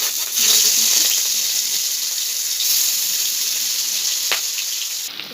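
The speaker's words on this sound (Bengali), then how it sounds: "মাছগুলোকে লাল করে ভেজে নেব।" Grass carp pieces frying in hot oil in a home kitchen, a steady loud sizzle and hiss running throughout with small crackles and one sharp pop near the end.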